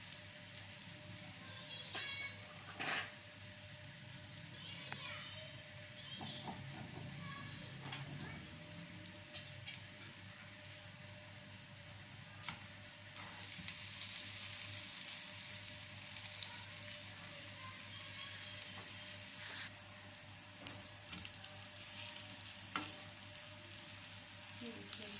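Open-face sandwiches with a spiced filling fry gently in a little oil over low heat, giving a soft, steady sizzle with scattered small pops and clicks throughout, with no talking over it.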